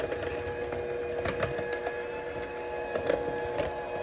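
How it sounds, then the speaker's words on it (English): Wet cookie ingredients are mixed together in a bowl, giving a steady humming, whirring drone with soft rhythmic knocks and scrapes throughout, close and moderately quiet, with no speech. "I'm gonna mix them together until they're just combined."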